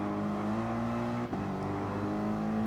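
A Porsche Gr.3 race car engine in Gran Turismo Sport at the Nürburgring GP drones at steady high revs, with a brief dip around a gear change before the tone holds again, loud and continuous with no talk.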